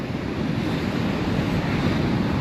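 Sea waves crash on a beach at Sangudurai, a loud, continuous roar of surf with heavy wind buffeting close to the microphone throughout.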